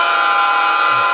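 A single loud, steady model train horn blast holds one buzzy tone for about a second, close and alone.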